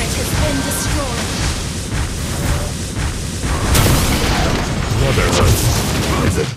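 Dense, booming game effects of a turret being destroyed in Mobile Legends ranked play, a loud continuous wash of blasts and impacts that swells toward the end, with game voices over it.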